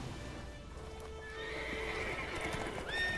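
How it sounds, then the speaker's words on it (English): Horses in the video game The Witcher 3 whinny and neigh with sharp, rising calls over a steady background hum, with a clip-clop of hooves running underneath. "Look at the pretty horses."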